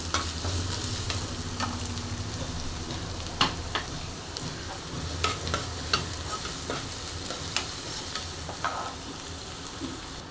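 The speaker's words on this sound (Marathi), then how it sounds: "आता मी याच्यामध्ये कांदा टाकणार आहे कांदा छान असा परतून घेणार आहे" Onion sautéing in a pan for lauki (bottle gourd) sabji, a steady low sizzle with scattered clinks and scrapes of stirring, close and continuous with no talking.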